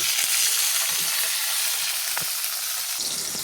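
Potato pieces fry in a pan of oil for a fish curry, giving a close, steady hiss and crackle throughout with a few soft stirring knocks.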